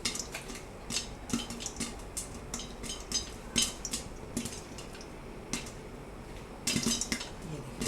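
Popcorn pops in a kadhai at home, a scattered run of sharp, close pops and clicks at irregular intervals, with a denser burst near the end, over faint background rustle.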